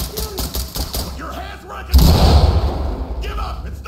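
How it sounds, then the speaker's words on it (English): A flashbang grenade goes off in the tactical shooter Ready or Not: quiet voices at first, then one sudden loud bang partway through that decays into a lingering rumbling wash. "flashbang"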